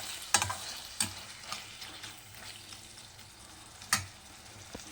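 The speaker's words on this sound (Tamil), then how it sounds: "அடிப்பிடிக்காமல் கிண்டிக்கிட்டே இருங்க." Snail gravy frying in a kadai while a spoon stirs it, heard as a soft steady sizzle broken by several sharp metallic scrapes and clinks of the spoon against the pan, close up and with no talking.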